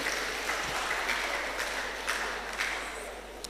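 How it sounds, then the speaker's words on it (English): Steady audience applause for a school at a national public speaking competition semi-final, a continuous wash of clapping at moderate distance, fairly soft and even throughout. "A round of applause for them."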